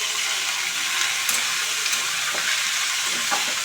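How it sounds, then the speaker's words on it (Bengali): Potatoes frying in a home kitchen pan give a steady bright sizzle that holds throughout, with a few faint clinks and pops and no talking. "এই যে আলু ভাজা বসিয়ে দিয়েছি"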